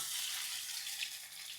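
Chicken wings fry in hot oil as they are turned over, giving a steady, fairly quiet hiss and crackle with no talking.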